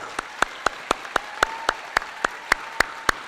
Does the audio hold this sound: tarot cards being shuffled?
no